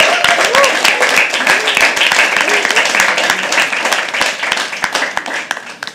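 An audience at a poetry open mic claps steadily in a dense burst of applause that tapers slightly toward the end, with voices mixed in among the clapping.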